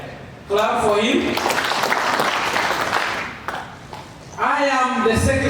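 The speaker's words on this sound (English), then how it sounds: "Clap for him." An audience at a college graduation ceremony applauds the vice chairman with loud, dense clapping for about four seconds. A voice on a public address system speaks just before and just after.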